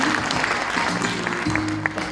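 Audience applause welcoming dignitaries at the opening ceremony of a software policy research institute in 2014, a steady wash of clapping with faint murmuring underneath.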